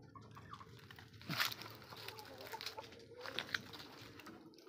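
Kelso hens cluck softly and intermittently at close range, short throaty calls scattered over a quiet farmyard background, with a slightly louder burst near the middle.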